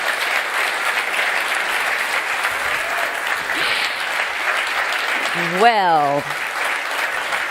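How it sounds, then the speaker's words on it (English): Steady applause from a live audience cheering Alpine F1 drivers at a team car launch, sustained and dense throughout, with a brief voice near the end over the clapping. "Please applause for those incredible drivers."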